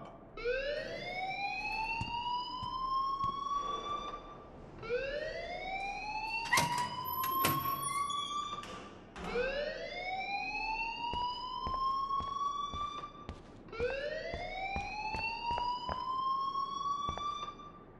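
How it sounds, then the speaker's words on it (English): A school fire alarm in Life Is Strange wails in four long rising sweeps, each climbing and holding before cutting off, loud and close, with clatter and brief noises in between and no talking. "please turn off that alarm since that's your job"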